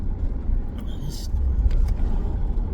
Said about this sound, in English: sorry for the background noise, but I let his window down